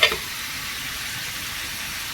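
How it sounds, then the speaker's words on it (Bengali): Meat and potatoes frying in a pan, giving a steady close sizzling hiss that holds evenly after a brief initial clatter. "এখন হালকা করে ভেজে নিচ্ছি"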